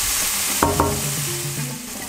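Peppers and onion sauté in a pan for Dominican dumplings with salt cod, a steady close sizzle broken by two quick utensil clacks early on and a soft stirring scrape, with no voices.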